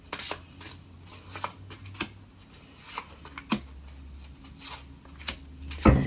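A tarot deck being shuffled, soft close riffling and card taps in a quiet room with scattered small clicks and a sharper snap near the end, with no talking.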